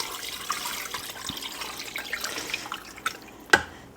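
Water is poured into a pot of unseasoned meat for homemade dog food, a quiet trickling splash with scattered drips and a sharper clink near the end, faint and without voices.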